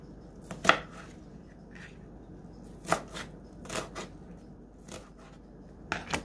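Onions being chopped with a knife on a cutting board: a handful of sharp, separate knife strikes spread irregularly through the moment, fairly close and not loud, with quiet between.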